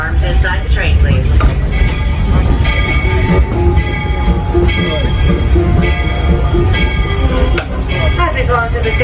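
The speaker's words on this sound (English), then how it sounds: "As we pull onto the station, please remain on board and seated until the train comes to a full and complete stop." A Disney railroad train at Magic Kingdom pulls into the station, with loud clattering wheels and rhythmic rail knocks under a constant rumble, while a voice speaks over the noise.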